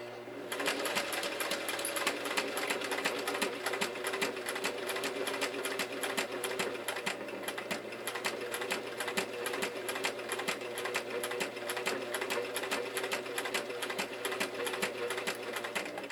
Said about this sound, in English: I will see you over at the sewing machine